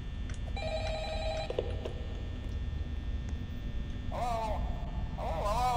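A telephone rings in a Roblox video game, a buzzing electronic ring at the start under a steady hum, followed by wavering voice-like sounds toward the end.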